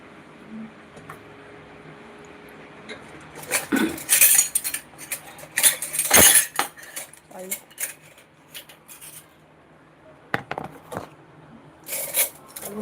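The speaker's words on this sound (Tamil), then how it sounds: "பாத்திரம்லாம் எடுத்துவோம்" Metal cooking pots and utensils clink and clatter in bursts during Thai Pongal festival cooking, some sharp knocks among them, with quieter pauses between and a voice faintly present.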